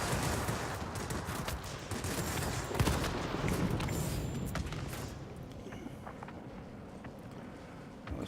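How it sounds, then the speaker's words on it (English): Aircraft guns firing at near maximum range in a La-15 jet flight combat game, a dense sustained rattle of gunfire with roaring background noise, louder early and easing slightly toward the end. "we're shooting at darn near maximum altitude, or maximum range of the guns"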